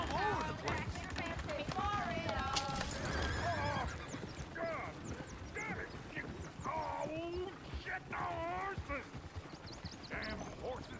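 Horse whinnies repeatedly and hooves clip-clop in Red Dead Redemption 2, with other animal calls like duck quacks and a voice talking throughout a busy, loud outdoor scene.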